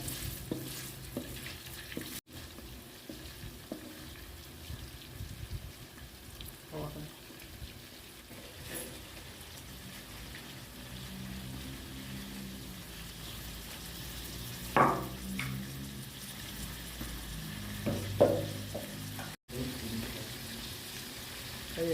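Sago palm weevil larvae fry in hot oil with kaffir lime leaves, a steady low sizzle running throughout, broken by occasional stirring scrapes and a few louder bubbling bursts near the end.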